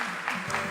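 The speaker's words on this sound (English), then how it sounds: "give them a huge round of applause" A short burst of audience applause at an evening memorial celebration with music, a dense, steady patter of many hands clapping for a pair of donors.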